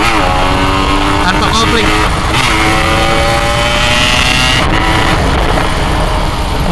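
A Yamaha RX King motorcycle revving at a motovlogger gathering: a loud, continuous two-stroke engine note rising and falling in pitch, with someone talking over it.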